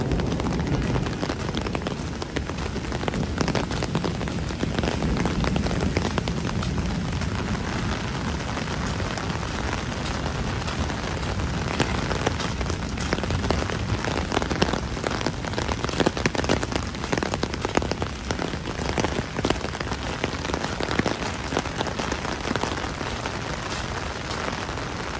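Steady, dense rain pours during a thunderstorm on the streets of Midtown Manhattan, New York City, a continuous loud hiss of drops on pavement and surfaces lasting throughout with no voices.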